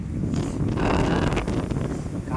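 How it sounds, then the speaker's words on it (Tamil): Wind blows steadily outdoors as a broad, continuous rush with gusty swells, loud and close to the microphone and buffeting it, with no talk over it. "காற்று அடிக்கும் போது அப்படியே உடம்புலாம் மேலே பட்ட உடனே"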